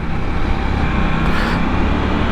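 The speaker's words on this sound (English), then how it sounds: "If you're riding through town, the motor is very smooth with unbelievably slick fueling" A Husqvarna Svartpilen 801 parallel-twin motorcycle rides through town, a steady, loud low engine rumble mixed with road and wind noise, without pronounced revving.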